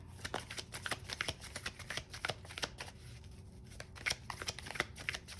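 Tarot cards are shuffled and handled during a card reading. A soft, quick flutter of riffling and snapping runs continuously, faint and close in a quiet room.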